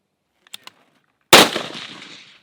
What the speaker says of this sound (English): we're going to shoot 2 strings of 5 shots each